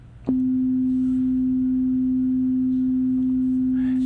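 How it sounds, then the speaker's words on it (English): A pure, steady sine tone starts abruptly and holds at constant pitch and loudness, with nothing else layered on it. "So basically, here is a sine wave."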